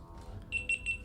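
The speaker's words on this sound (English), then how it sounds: "Their alarm system's going off." An alarm system going off, heard as a few short high electronic beeps pulsing in quick succession over a low background rumble, brief and moderately loud.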